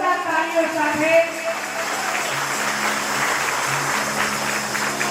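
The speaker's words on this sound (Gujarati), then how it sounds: "એક વખત આપણે જોરદાર તાળીઓ સાથે" Applause at a Gujarati satsang gathering, a dense crowd clapping steadily for about five seconds at a fairly loud level, with a voice and some musical tones audible at the start before the clapping takes over.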